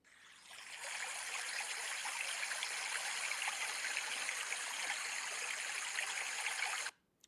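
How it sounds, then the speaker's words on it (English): A slow stream sleep sound from the Rain sleep app: steady, continuous trickling water that fades in, holds evenly at close range with no talk, then cuts off abruptly near the end. "That's the slow stream."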